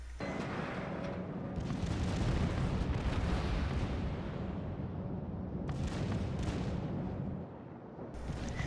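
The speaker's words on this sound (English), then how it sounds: "Secondary batteries on both ships open up, and the air between both of the ships is sizzling with explosions." Rapid secondary battery gunfire and bursting shells from two battleships, including a Tier VII US battleship Colorado, trade blows in the naval combat game World of Warships, a dense, continuous roar of booms and crackling explosions throughout.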